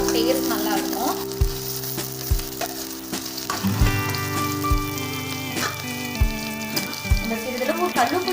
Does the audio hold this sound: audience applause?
no